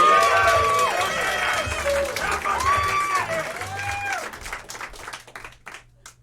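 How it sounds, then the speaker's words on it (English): A student stand-up comedy showcase crowd applauds loudly with cheers and whoops, the clapping gradually thinning out into scattered claps at the end. "a huge round of applause for your next guy"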